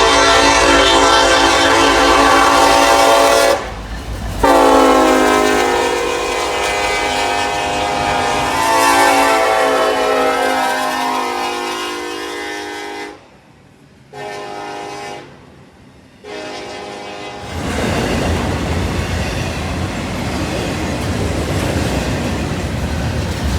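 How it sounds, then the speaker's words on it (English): A Norfolk Southern intermodal train led by an ACE locomotive with an AC44 second sounds its horn loudly and repeatedly up close, long blasts separated by short breaks, before rolling on with a roaring rumble of passing cars. "the next train showed up, which was a Norfolk Southern intermodal with an ACE leading and a AC 44 in second"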